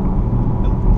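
A 2016 Dodge Charger R/T Scat Pack 392 engine rumbles low and steady while accelerating on the highway, heard from inside the cabin. The tone is a muffled, continuous drone at moderate level with no talking over it.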